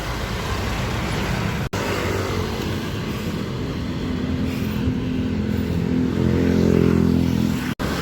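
Midday road traffic on the climbs around Antipolo heard from a moving rider: a steady, loud engine and road roar swelling toward the end, with two brief cut-outs and no talk.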